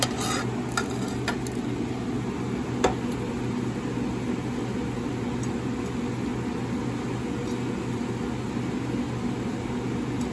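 Corn, barley and tapioca pearls being stirred into coconut milk in a pot: a steady, soft wet swishing and bubbling hiss with a few sharp clinks of a utensil against the pot, faint and continuous.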